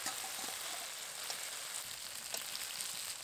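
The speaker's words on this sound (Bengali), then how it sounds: "এবার এর মধ্যে ভেজে তুলে রাখা কচুগুলো দিয়ে দেবো" Fried taro pieces going into a red, oily spice masala, a continuous even hiss of frying that stays steady and fairly quiet throughout.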